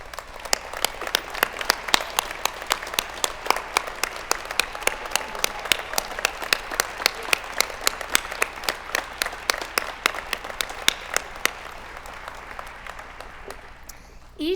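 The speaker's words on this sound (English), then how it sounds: "join in a round of applause for Penn's leading volunteers" A gala audience gives sustained applause for alumni award recipients and past award volunteers, dense clapping throughout that thins slightly near the end.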